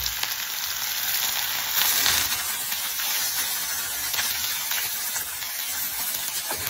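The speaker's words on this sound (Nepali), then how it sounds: "तेल तातिसकेपछि थोरै जिरा फुराउनु होला। त्यसैगरी अब प्याजलाई राख्नु होला।" Chopped onion frying in hot oil with cumin seeds in a pan, for chicken momo filling, a dense, crackling sizzle that spits and pops steadily close up, swelling briefly as the onion is stirred.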